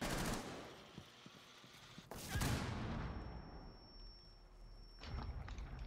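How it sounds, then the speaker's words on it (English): A claymore blows up in the Rainbow Six Siege video game: a sudden loud blast about two seconds in, then a fading rumble and ringing tone. Sharp gunshot-like cracks and scuffling sounds come before and after. "I shot the claymore in it."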